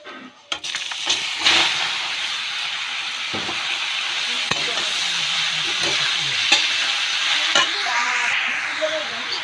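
Finely chopped bottle gourd tipped into hot oil bursts into a loud, steady sizzle and hiss, with a few clattering knocks of a utensil against the pan near the start, while cooking fish head and gourd ghonto.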